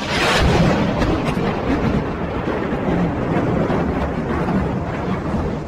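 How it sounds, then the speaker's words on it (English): A heavy thunderstorm roars with a continuous dense rumble of thunder and rain, loud and unbroken throughout, with no voices. "A flash on the air announced the unstoppable phenomena. And comes the perfect storm."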